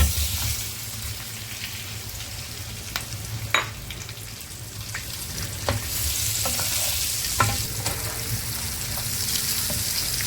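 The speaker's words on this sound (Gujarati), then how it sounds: "તો આપણું તેલ ગરમ થઈ ગયું છે. એમાં જો બટેટા ભરેલા છે એ પહેલાં રાખી દઈએ." Stuffed potatoes sizzle steadily in hot oil, a broadband frying hiss with scattered sharp crackles and spatters, close and moderately loud, with no voices.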